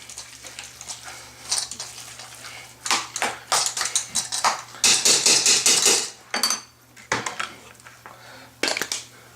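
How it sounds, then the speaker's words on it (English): An electric hand mixer being assembled in a home kitchen: irregular plastic and metal clicks, clacks and rattles as beaters and parts are snapped together, close and loud, with short pauses between bursts. "Putting my mixer together."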